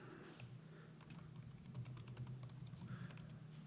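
Quick keystrokes on a computer keyboard as a terminal update command is typed for a traffic analysis setup, a steady run of close clicks over a low constant hum, with no voices.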